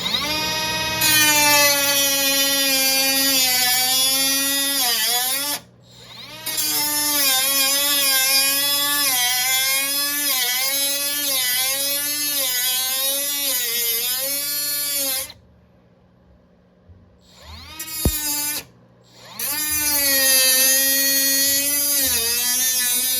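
A small Milwaukee power tool runs steadily while cutting through the firewall of an E30 being prepared for a front-mid LS3 engine swap. It whines loudly and continuously, its pitch wavering as it bites, with two brief pauses.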